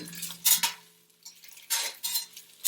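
Goat meat browns in a pot under repeated metal utensil scrapes and stirs, loud close bursts separated by quieter moments carrying a light sizzle.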